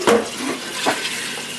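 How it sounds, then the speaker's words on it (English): Water splashes briefly while black beans are rinsed and drained in a kitchen sink. There is a short gush at the start, then a few softer sloshes and light clinks, close by, with no talking. "We're washing those black beans real good. Draining them off again."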